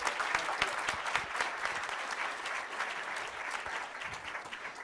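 An audience claps steadily throughout, a dense, even patter of many hands at moderate distance, with no speech over it.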